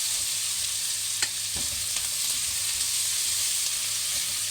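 Kofta and potatoes fry in ghee in a pan, giving a steady close sizzle with a few soft scraping knocks from stirring.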